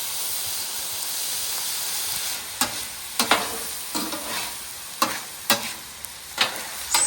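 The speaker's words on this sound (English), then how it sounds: "We're doing the wok method where you kind of just throw it around the griddle." Fried rice with soy sauce sizzles steadily on a griddle, tossed wok-style, with a constant bright hiss broken by repeated scraping strikes of a spatula, close and loud.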